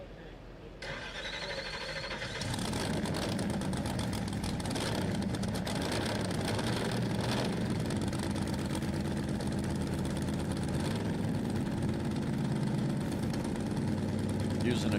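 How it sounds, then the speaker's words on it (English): A Fuel Roadster race car with a Chevrolet 468 cubic inch big-block V8 starts up and runs loud and steady at a dry lake track, a dense, continuous engine roar after a brief quiet opening. "Using a Chevrolet 8-cylinder big block, 468 cubic inch big block."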